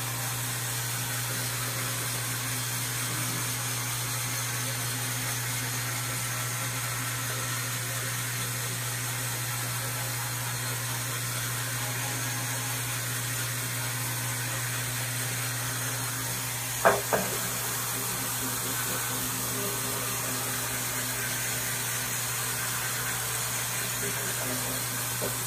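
A Tilswall M3 electric scrub brush scrubs a seat with a steady, faint motor whine. There is a brief knock partway through, and no voices.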